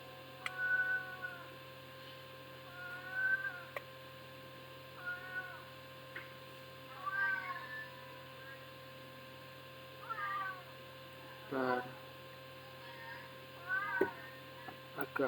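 A cat meows repeatedly, about seven short, clear calls spaced a second or two apart, over a faint steady electrical hum.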